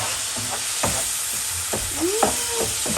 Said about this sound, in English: we're going to put half cup of white wine right to our mushrooms. We're going to mix it really quick.